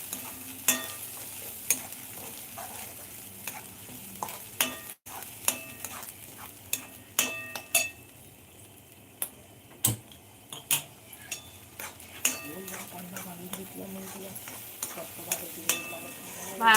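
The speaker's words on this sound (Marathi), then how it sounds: "असं परतून घ्यायचं छान" Masala for matar paneer being sautéed in a pan, with a soft, steady sizzle under repeated scraping and tapping of a spoon against the pan at an irregular, close-up rhythm.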